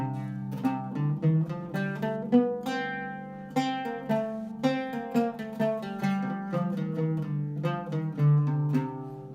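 Arabic maqam Rast beginning on C, played as a melodic line on a plucked stringed instrument, with rapid successive notes rising and falling, each attack ringing briefly, steady and moderately loud throughout with no voices.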